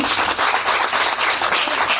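Audience applause at a community jayanti celebration, a brief, dense burst of many hands clapping, loud and steady throughout.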